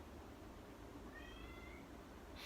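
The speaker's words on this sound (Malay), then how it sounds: "Bising lah kucing ni." A stray cat meows once in a drawn-out, faint cry somewhere indoors, set against a steady low background hum.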